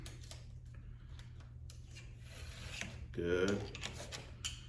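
A hand file rasps across saw teeth during sharpening, short close scraping strokes with a louder burst near the end; someone speaks a single brief word.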